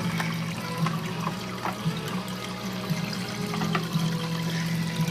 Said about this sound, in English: The water gets sucked in through the tube, comes in, and then just flows through the filter.